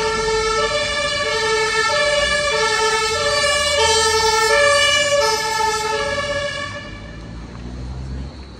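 Wailing emergency sirens, police and ambulance, sound on a busy evening street in Berlin's Prenzlauer Berg, loud and sustained with stacked tones that fade slightly near the end over steady traffic rumble.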